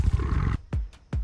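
A Smilodon saber-toothed cat snarling at dire wolves in the Ice Age, a rough sustained growl followed by three short sharp snarling bursts, close and loud.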